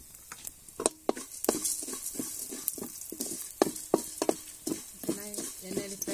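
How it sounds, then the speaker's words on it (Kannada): Cumin, mustard and coriander seeds fry in hot oil with a soft, spitting sizzle, broken by quick scraping stirs and light clicks against the pan, sometimes sounding faintly under a voice. "ಎಣ್ಣೆಯಲ್ಲಿ ಫ್ರೈ ಆಗಬಹುದು."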